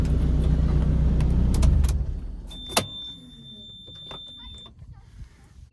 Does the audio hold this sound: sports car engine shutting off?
yes